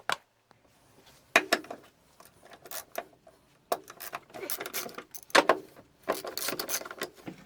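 Wrench work on two 13 mm bolts holding a small bracket on an Audi A3 Sportback 2.0 TDI, heard as scattered metallic clicks, ratcheting and clinks of the tool, close and intermittent.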